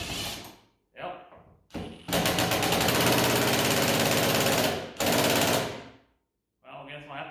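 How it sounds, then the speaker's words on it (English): Ryobi impact driver loosening a bolt on a Jeep TJ being torn apart, giving loud, close bursts of rapid hammering rattle, a long three-second run then another, with short squeezes of the trigger between. "going to use an impact driver, put her on 1 to start, just to see if it'll just break and lose that way"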